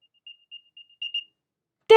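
Apple AirTag locating alert, a series of faint high chirping beeps that grow a little louder, followed by a loud burst of another sound at the end.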